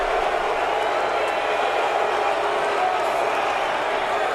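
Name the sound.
Pocono race fans booing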